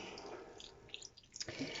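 Wine pours and drips softly into a bowl, a brief quiet trickle with small splashes, close by and with no talking.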